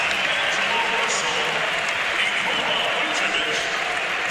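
A large All-Star game arena crowd cheers and applauds steadily as Dirk Nowitzki checks in, a dense continuous roar of clapping and voices, with an announcer's voice blended into the noise.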